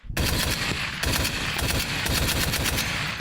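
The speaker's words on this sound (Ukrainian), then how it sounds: "У нагоді стає кулемет Браунінг." A Browning machine gun fires during military training, a loud, continuous rapid burst of shots with rattling repetition and little pause.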